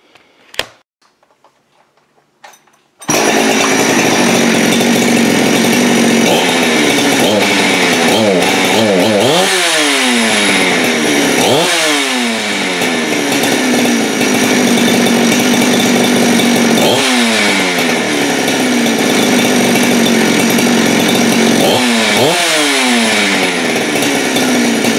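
After a few faint knocks, a Farmertec G372XT chainsaw starts and runs loudly and continuously, its pitch rising and falling as the throttle is revved repeatedly.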